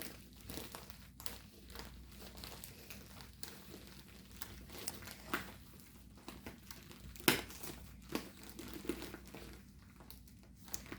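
Crinkly plastic packaging around a diamond painting and cross-stitch kit being handled and unwrapped, with continuous rustling and crackling and a few sharper crinkles, close by, no talking.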